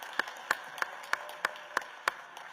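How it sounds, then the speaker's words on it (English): A few sparse, separate hand claps rise at a steady pace for a District 2 School Board member at a Broward County swearing-in ceremony, thin and faint like a small, scattered audience rather than a full ovation. "give her a round of applause"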